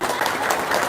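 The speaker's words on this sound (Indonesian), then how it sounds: "Tepuk tangan dong." Brief burst of applause after a joke, a short, even wash of clapping lasting about a second.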